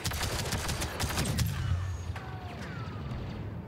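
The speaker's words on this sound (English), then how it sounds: "My turret's getting blown up." A turret being blown up in Star Wars Battlefront II, with a dense barrage of rapid blaster fire and explosive bursts that give way to a rumbling wash with whooshing laser streaks.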